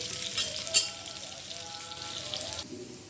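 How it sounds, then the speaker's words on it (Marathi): Onion roasting dark in a pan for a black masala, a soft continuous sizzle with a couple of brief sharper crackles near the start, the frying dropping quieter toward the end. "कांदा भाजतो आहे काळा मसाला तयार करण्यासाठी"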